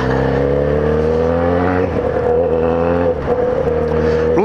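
Kawasaki Z1000 motorcycle engine droning with a steady harmonic hum, then revving up and down with a raspy exhaust note, loud and close.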